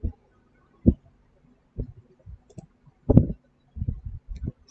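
Computer mouse clicks while installing MySQL server and SQLyog on a PC: about eight short, sharp clicks at irregular intervals, close and dry, with no talking.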